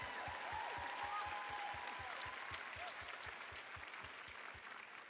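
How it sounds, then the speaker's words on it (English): Audience applause for a speaker at a conference, dense continuous clapping sustained evenly for several seconds, with a faint rhythmic thumping running underneath. "Let's give another round of applause for Shilpa"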